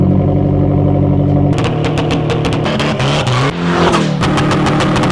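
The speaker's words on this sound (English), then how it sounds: "You guys have heard in all of my previous videos on what it actually sounds like to have a straight piped car." A loud, raw straight-piped car exhaust idles rough, then cracks into sharp revs and blips, harsh and close throughout.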